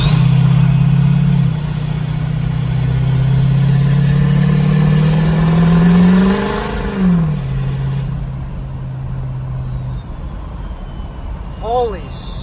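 A 6.0 diesel truck engine fitted with a KC Stage 2 nine-blade turbo, loud and close, with a rising jet-like turbo whistle over the engine drone, a pitch swell as it revs, then a falling whistle as it spools down.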